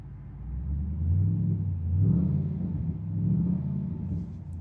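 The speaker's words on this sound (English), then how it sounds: "Exhaust on this car sounds awesome." A black 2005 Pontiac GTO with a 400 hp LS2 V8 and cat-back exhaust idles with a deep, steady rumble that swells and eases a few times, loud and close, with no voices.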